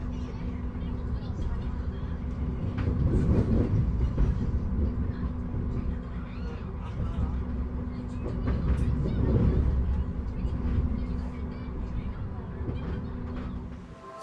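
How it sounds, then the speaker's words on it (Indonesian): Argo Muria executive passenger train, New Generation stock, standing on track 3 at a station en route from Semarang Tawang to Gambir, a low continuous rumble and hum with swelling passes and faint clatter. "Ini di jalur 3 ada rangkaian kereta api Argo Muria dari Semarang Tawang tujuan Gambir."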